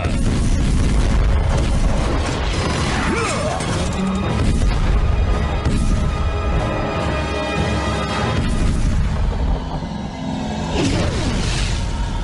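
Cannon fire from an animated kung fu film erupts in loud booming crashes and whooshes, layered over a dense, continuous action score with a brief shout.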